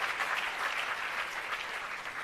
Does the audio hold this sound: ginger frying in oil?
no